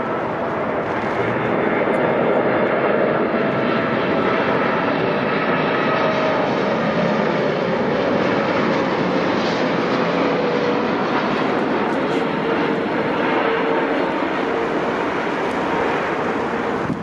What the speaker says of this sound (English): Lufthansa 402 from Frankfurt flown by the Boeing 747-8